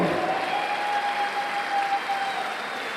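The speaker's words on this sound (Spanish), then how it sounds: "Vamos a pedir un fuerte aplauso para Manlima Cosplay." Audience applause at the Mangamore 2022 cosplay contest for Manlima Cosplay, a steady, dense clapping wash filling the hall from start to finish, with no talk over it.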